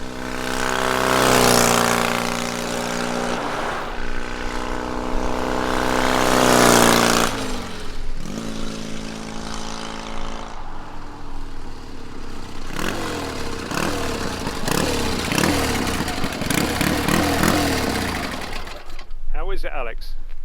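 A 1970 Triton 750 cafe racer motorcycle makes repeated flybys, its engine note building loudly as it approaches, then dropping in pitch as it passes and fades, with several rising revving runs through the gears.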